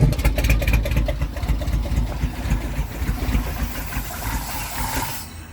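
The engine of an old orange truck idling, a steady low rumble with a faint rhythmic chug and no voices, gradually easing before it cuts off at the end.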